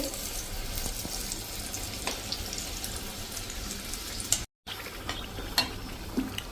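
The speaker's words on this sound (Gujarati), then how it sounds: "અને ગોલ્ડન બ્રાઉન ના થાય ને ત્યાં સુધી આપણે આને તળવાના છે." Ghughra, sweet semolina-and-almond-filled dumplings, frying in oil at medium heat, giving a steady close crackling sizzle with faint watery bubbling throughout, broken by one brief dropout near the end.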